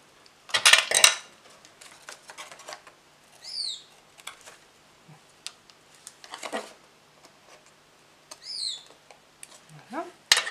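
Scissors cutting ribbon for a scrapbook-style Christmas card, with a few sharp close snips and small rustles of handling scattered across the stretch.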